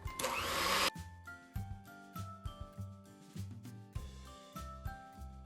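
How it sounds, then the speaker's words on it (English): An electric mixer whirs briefly, mixing sugar for cookie dough in a loud burst just under a second long, and then gives way to light, plucked background music. "Take a blender or a mixer and you just want to mix this until it's"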